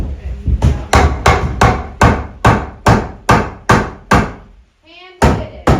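Hammer blows ring out on a shed being built off grid in remote Alaska: a dozen loud, evenly spaced strikes at close range, with a short pause near the end before the blows resume.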